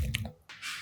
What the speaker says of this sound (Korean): 절여진 오이는 물기를 꾹 한번 짜서 담아주세요.